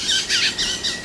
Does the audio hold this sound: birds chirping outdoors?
yes